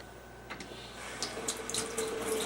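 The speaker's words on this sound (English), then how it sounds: "Now turn the water on." A faucet runs steadily to rinse squirrel meat, a close, soft splashing flow with small water spatters and handling sounds layered over it.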